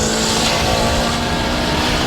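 A turbocharged sleeper car fitted with a 62mm CXracing turbo kit roars loud and close at a Houston car meet, a dense, sustained engine and exhaust blast with a steady tone underneath.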